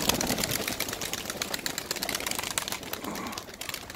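A Turkish game pigeon is flown in training, its dense rapid wing flutters and claps running continuously over steady outdoor background noise.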